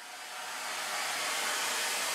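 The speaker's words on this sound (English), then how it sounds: "I can easily use a blow dryer to help speed up the drying process" A blow dryer whirs up and then runs steadily, a close, even, airy roar throughout.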